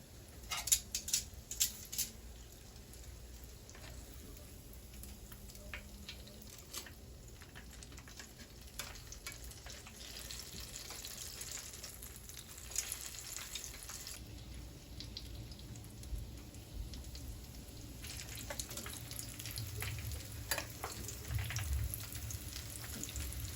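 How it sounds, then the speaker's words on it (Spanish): Cheese-stuffed jalapeños fry in hot oil with a constant close sizzle, scattered crackles and pops, and occasional stirring or shifting noises over the bubbling. "Y lo ponemos a freír."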